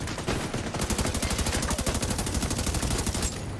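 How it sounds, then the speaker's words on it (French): Machine gun and turret gunfire in a video game, a rapid steady burst of loud, evenly spaced shots lasting a few seconds. "Avec la sulfateuse, c'est bon. Il y a une tourelle qui tire dessus."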